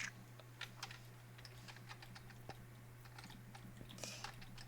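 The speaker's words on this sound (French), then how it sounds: "le fait est que j'entends ton clavier là" Computer keyboard typing in scattered quick clicks and short bursts, fairly faint and close, over a steady low electrical hum, with no talking.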